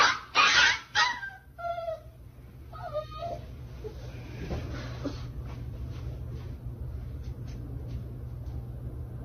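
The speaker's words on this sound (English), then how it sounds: "the dog screaming and yelping in pain" A three-month-old puppy yelps and screams in sharp, loud bursts at first, then trails into fainter whimpers over a steady low hum.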